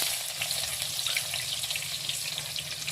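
Sliced onions are dropped into hot oil in a pan that has just held fried potatoes, during home cooking of a meat dish, giving a continuous close crackling sizzle with dense spitting bubbles.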